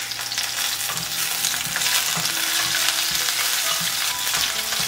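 Loud, continuous close sizzling as shrimp heads, garlic and scallion segments are stir-fried in oil in a clay pot, with faint scraping of the utensil running under the crackle.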